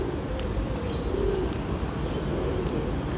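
Pigeons cooing softly outdoors in low, repeated murmurs beneath a steady wash of ambient noise.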